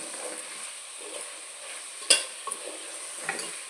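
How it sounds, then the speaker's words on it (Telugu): Soya chunk (meal maker) biryani ingredients with curry leaves stirred and fried in a pan, a steady soft sizzle with a sharp utensil clink partway and a few lighter scrapes after. "బాగా కలుపుకొని కాసేపు వేగనివ్వాలండి."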